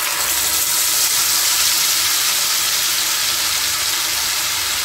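Green pea paste frying in a hot pan with a pinch of nigella seeds, a steady close hiss and sizzle for the whole stretch with no talk.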